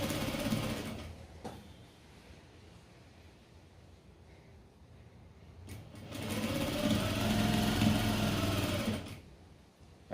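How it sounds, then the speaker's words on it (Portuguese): A sewing machine stitching a strip of sacking-style fabric for a patchwork bread cover, with a short hum, a pause, then a longer steady whirring run of needle strokes, close and moderately loud, with no talking. "Então, vamos costurar ela, aí nós vamos passar, vamos virar e fazer um acabamento."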